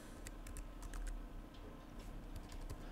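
Typing on a computer keyboard, quiet scattered clicks and taps at an uneven pace over a low hum, close but faint, with no talk.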